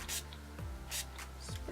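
Makeup setting spray misted onto the face during a Valentine's Day makeup routine, heard as two short, close hissing bursts about a second apart, with low talking underneath.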